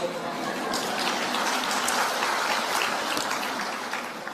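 Dense, continuous clapping from a large audience fills the whole stretch at an even level, like a steady wash of applause.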